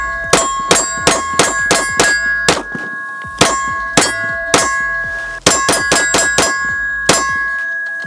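A Smith & Wesson M&P 2.0 pistol is handled up close: rapid, sharp metallic clicks and clacks come in quick clusters as the slide and magazine are worked, with slight ringing and no talk.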